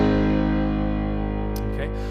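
A piano holds one chord from a section of a song, sustained for about two seconds and slowly fading, with no talking.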